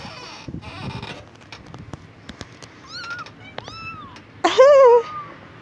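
Several street cat meows, some short and some drawn out, with a louder, more strained wail near the end over faint background noise.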